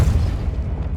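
Depulso force spell cast in Hogwarts Legacy, a single deep booming blast that rumbles on for a second, loud and close, with no talk over it.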